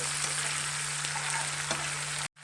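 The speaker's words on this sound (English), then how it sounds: "Mix it well" Steady sizzling and frying of stuffed squid masala in a pan as it is stirred, a continuous loud hiss with faint scraping, then a brief cut-out near the end.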